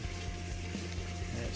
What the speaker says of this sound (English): And it's filling.